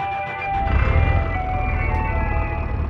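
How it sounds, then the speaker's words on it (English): Startup jingle of a Daewon commercial bus with a 9.8 litre diesel engine in the BeamNG driving game, a short bright tonal chime over a low engine rumble as the bus powers on. "The bus even has a startup jingle."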